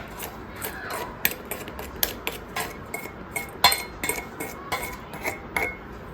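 A spoon clinks repeatedly against a bowl while yeast, sugar, salt and garlic are stirred into milk, a quick irregular run of bright metallic taps, close and clear with no talking.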